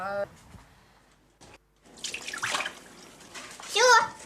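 A weakly flowing tap splashes as a cup is washed in a hospital basement in Donetsk. A short rush of running water stands out among people talking, including a child.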